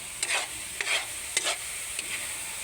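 Cassava leaves sautéing in oil in a pan, with four separate bursts of stirring and sizzling spaced about half a second apart over a steady low frying hiss, heard close with no talking.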